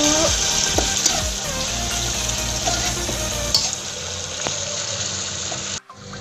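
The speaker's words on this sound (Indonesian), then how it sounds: "Kita oseng-oseng dulu" Coarse spice paste for spicy bakso stir-fried in a pan, a steady close sizzle and frying hiss with stirring scrapes, fading out near the end.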